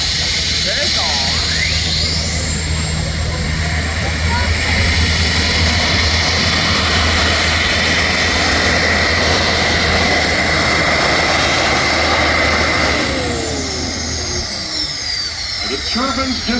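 A gas turbine pulling tractor runs at a tractor pull with a loud, sustained jet-like roar and a high whine, which eases slightly near the end.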